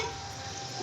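Mutton sizzling in a frying pan at a home kitchen, a steady close hiss of hot oil lasting under a second with no voices.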